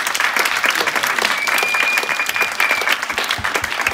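An audience claps for the musicians at a Christmas party concert, dense sustained applause close and loud for the whole stretch, with no speech on top.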